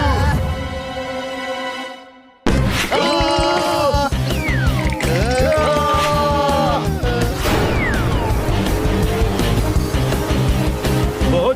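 A cartoon car with failed brakes skids, its tires squealing in long rising and falling screeches over a loud engine roar and crashing clatter, following a brief steady tone and a sudden cut.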